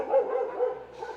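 A dog barks in a quick run of several close, fairly loud yaps that blur together, with no talk over them.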